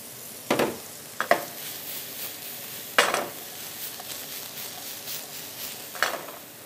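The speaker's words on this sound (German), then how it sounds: "dann braten wir uns die vorher in Würfel geschnittenen Steinpilze an" Diced porcini mushrooms fry in oil in a pan, with a steady low sizzle broken by a few sharp stirring and scraping clatters.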